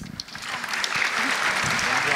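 Audience applause during a French talk show, a short burst of scattered clapping that stays steady and moderately loud, with a voice speaking over it.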